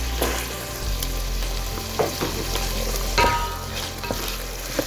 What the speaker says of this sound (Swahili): After the cooking oil, we now put in the onions.